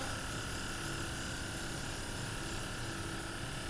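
A Luminess airbrush makeup system sprays a fine mist of foundation onto a face, giving a steady, even hiss with a faint electric compressor hum underneath, unbroken for the whole stretch and with no talking.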